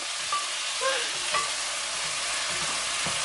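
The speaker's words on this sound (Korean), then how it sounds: "이렇게 대충 볶다가 같이 볶을 거예요." Ingredients for jajangmyeon stir-fried in an oily pan, a steady broadband sizzle with a few light scraping strokes of the spatula, close and continuous with no voices.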